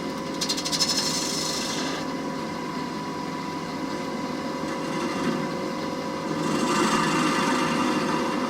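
Steady rasping and scraping of a tool against wood as the leftover nub is cut from the bottom of a cored wooden bowl, continuous and close, with brighter bursts at the start and end.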